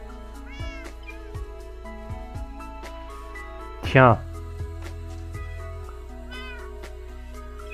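Cat meowing, a single loud, drawn-out meow in the middle, preceded and followed by softer chirps and brief vocal sounds, heard over a steady low hum with a person speaking briefly nearby.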